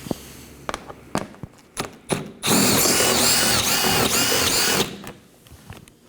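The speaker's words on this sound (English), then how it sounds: "Now we can move along to the underside of the bumper to remove our 6 7mm bolts" A power tool runs in a steady loud burst, spinning off 7mm bolts under the bumper of a 2018-2024 Chevrolet Equinox, with clanks and handling knocks before and after.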